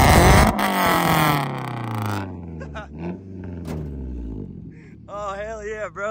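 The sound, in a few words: 1200 hp LLY Duramax diesel truck engine revving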